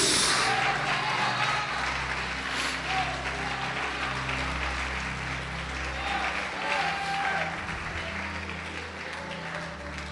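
A church congregation applauds during a sermon, continuous clapping washing through the hall over a low hum, with voices mixed in underneath.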